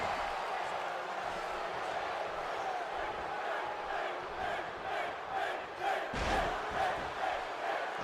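A wrestling arena crowd in the WWE 2K18 video game roars continuously through a Smackdown Live match between Finn Balor and Kevin Owens, a dense, steady cheer with swells near the end.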